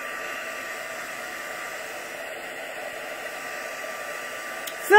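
A heat tool blows steadily to warm drops of alcohol ink, giving a continuous, even airy rush throughout with no talk.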